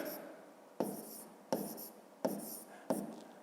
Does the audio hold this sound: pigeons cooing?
no